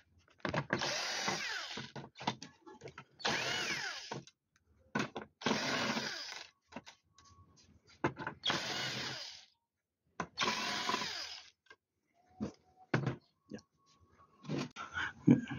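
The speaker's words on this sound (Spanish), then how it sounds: "Voy a quitar los tornillos." Screws being removed from the circuit board of a Hisense 58A6150 TV with a small electric screwdriver, which whirs in several bursts of one to two seconds separated by pauses, with faint handling clicks between them.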